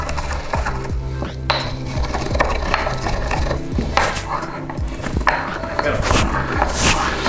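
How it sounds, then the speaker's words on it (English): Whole spices being crushed in a mortar and pestle produce repeated hard knocking and grinding strikes in an uneven rhythm, close and fairly loud, with a voice talking over them. "we're using a mortar and pestle because we're making a YouTube video"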